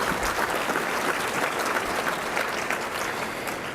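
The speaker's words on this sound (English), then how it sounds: "please give them a warm round of applause" A warm round of applause from attendees at a general session lunch, steady mid-level clapping from a seated crowd that holds evenly throughout.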